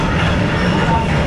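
Train passing in Hanoi, a steady loud rumble of rail cars filling the whole stretch without a break.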